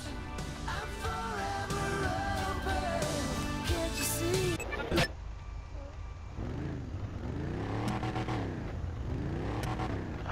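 A truck engine in GTA V revs and drones with rising and falling pitch, loud and steady, mixed with game-like background sounds throughout.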